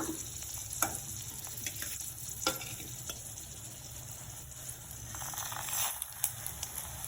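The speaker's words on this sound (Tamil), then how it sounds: "சீரகம், மிளகு, பெருங்காயம், இது அனைத்தையும் ஒன்றா வறுத்து எடுத்துக்கலாம்." Dried red chillies and spices frying in oil in a pan for sesame chutney, a continuous close sizzle with occasional sharper crackles and pops and a faint stirring scrape, no voices.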